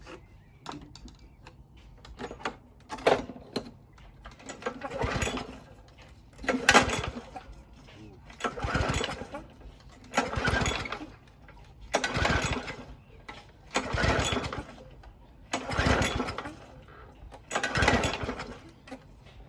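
A Briggs and Stratton petrol lawnmower is pull-started again and again: about nine evenly spaced rattling cord pulls, each a short mechanical burst with quiet gaps between, and the engine never catches and runs.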